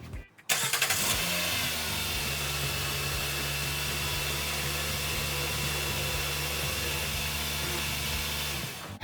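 A 2013 Nissan Sentra engine cranks and catches, then settles into a steady, close idle drone that continues unbroken.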